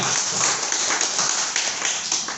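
An audience claps for Nagaya, dense and steady, loud and close, continuing throughout.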